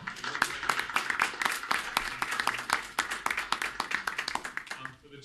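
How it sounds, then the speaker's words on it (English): A council meeting audience gives a hearty round of applause, with dense, steady clapping from many hands indoors that fades out at the end. "hearty round of applause."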